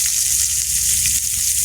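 Onion frying in a little oil in a wok hisses with a loud, dense, continuous sizzle throughout, heard up close with nothing else over it.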